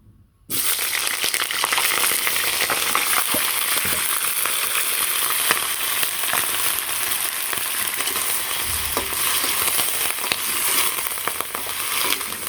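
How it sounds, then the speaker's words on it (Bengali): Cauliflower and potato frying in oil on a village stove: after a brief quiet start, a loud, continuous sizzle with occasional stir scrapes and light knocks runs on without talk. "এখন চুলাই তেল দিয়েছি ফুলকপি আর আলুটা ভেজে নিই"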